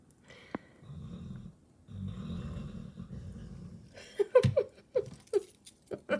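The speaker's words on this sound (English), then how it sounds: "You guys hear Dallas snoring?" A sleeping pet snores in the room, first as long, low, rumbling breaths, then as a closer run of sharp, loud snorts.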